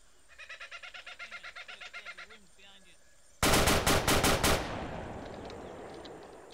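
Gunfire in the Saigon Siege video game: a rapid burst of loud automatic shots cuts in after a stretch of cooing birds, then trails off into echoing reverberation.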